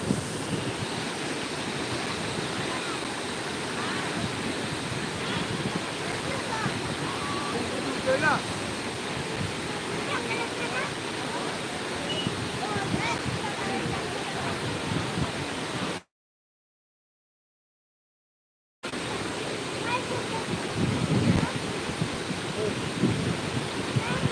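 Rushing water current at a rubber dam, a loud continuous roar and churn heard close by, with a short silent gap partway through and no speech.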